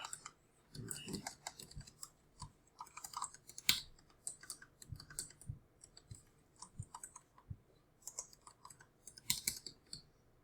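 Quick bursts of clicking keystrokes on a computer keyboard, close and moderately loud, arriving in uneven clusters with brief pauses between runs.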